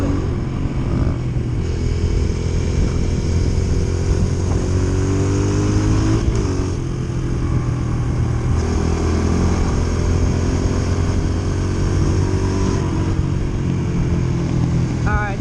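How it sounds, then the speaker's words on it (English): A dirt bike engine revving and pulling hard under acceleration, a loud, sustained drone that rises and falls throughout with wind rush and someone speaking over it. "with the amount of torque that is on that bike, all you have to do is lean back and just give it gas"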